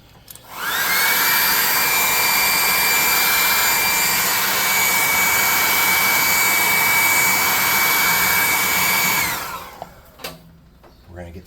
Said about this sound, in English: Hit that with a hairdryer.